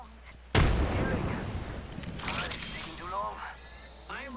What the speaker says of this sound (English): I'll send a warning grenade. Frag out.